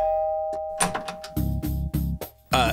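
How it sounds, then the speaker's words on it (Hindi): A doorbell chimes twice, close by, with a few quick bumps and rustles in between. "चल के घंटी बजाते हैं"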